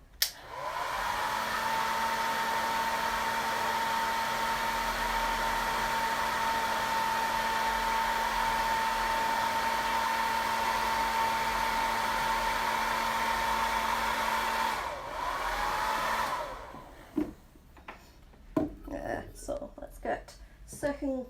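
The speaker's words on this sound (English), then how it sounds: "I'm going to have to put the dryer on here, but just get this dry to get a second coat on" Hair dryer blowing on a shiny painted can to dry the first coat, a loud steady whirring hum with a constant tone for about fifteen seconds before switching off, followed by faint handling sounds.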